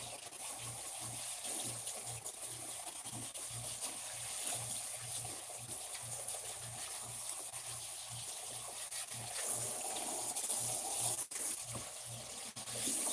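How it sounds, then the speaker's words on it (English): Running water rinsing long hair from the bottom up, a continuous close splashing hiss with soft rubbing and dripping textures, no voices. "If you have a lot of hair, start rinsing your hair from the bottom"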